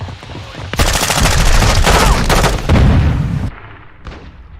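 Loud sustained bursts of rapid automatic gunfire with heavy booming blasts from a Call of Duty: Modern Warfare 2 multiplayer match played on PC, dense and continuous for several seconds before cutting off abruptly, with a brief echoing tail.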